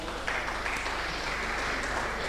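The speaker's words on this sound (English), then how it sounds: "Please, a round of applause for Prof." An audience at a lecture on artificial intelligence in healthcare applauds the professor, a steady, even patter of clapping heard at a moderate distance.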